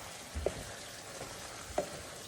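Ground meat frying in a pan while being stirred, with a low steady sizzle and a couple of brief scraping stirs, close by and quiet.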